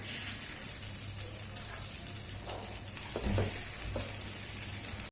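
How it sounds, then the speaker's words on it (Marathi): Rice-lentil appe batter frying in an appe pan over medium gas, a steady broadband sizzle with a few brief louder crackles, close and continuous with no talking. "आता गॅस मध्यम करून हे आप्पे आपल्याला 2 मिनिटे एका बाजूने चांगले भाजून घ्यायचे"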